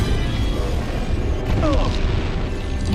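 Gunship attack explosions in the Crysis 2 video game, a steady loud rumbling barrage of booms and bursts filling the whole stretch, with no clear pauses.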